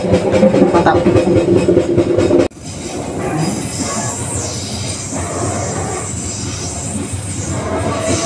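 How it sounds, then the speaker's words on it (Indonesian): Fajar Utama Yogyakarta passenger train running, heard from inside a carriage as a steady rumble with rail noise and faint squeals after a louder opening moment. "perjalanan saya naik kereta api Fajar Utama Yogyakarta"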